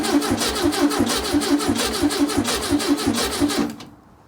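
A 1968 VW Beetle garage find, battery freshly hooked up, cranks hard with a rapid rhythmic chugging from the starter and engine. It is loud and close but does not catch, then cuts off abruptly.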